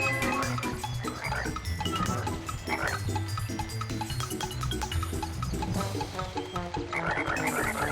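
Cartoon frogs croak in a steady, bouncy run of repeated calls, close and prominent over a busy musical background, with no one talking.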